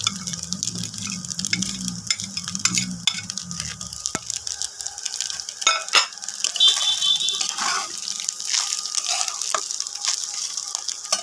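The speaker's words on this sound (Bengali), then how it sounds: "সবজিগুলো ভেজে নিয়েছিলাম, এবার সব দিয়ে দেবো।" Fried mixed vegetables tipped into a pan for Bengali vegetable rice, then stirred: a low clattering rustle at first, giving way to a soft, steady hiss with scattered light scrapes and clicks.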